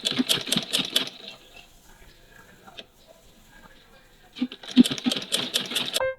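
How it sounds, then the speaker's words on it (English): A sewing machine stitching boning channels on a conical corset, running in fast rattling bursts at the start and end with a quiet pause between. "You can sew as many boning channels as you want."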